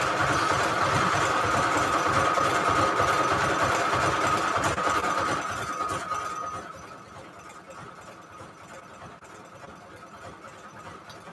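A sewing machine stitches paper strips into a collage on a tag, humming loud and steady up close for about six seconds before dropping to a quieter, slower run.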